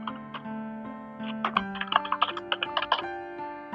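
Quick bursts of clicking keystrokes on a computer keyboard while entering a name in MS Word 2007, irregular taps clustered mid-clip over a steady background tone.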